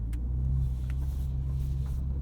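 A 2023 BMW M3 Competition xDrive Edition 50 Jahre pulls away with a deep, steady low engine rumble heard from inside the cabin, close and continuous without talk.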